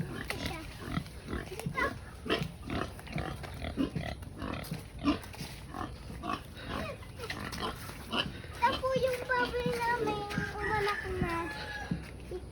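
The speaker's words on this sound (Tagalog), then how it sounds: "papakita sa inyo yung baboy namin" Pigs grunt and oink on a farm, several bursts close by under steady talk from people nearby, with higher squeals toward the end.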